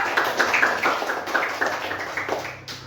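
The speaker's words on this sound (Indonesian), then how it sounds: "boleh kasih tepuk tangan untuk kelompok 3" A classroom of students claps for a group that just presented, a brief patter of hands at moderate level that thins out toward the end.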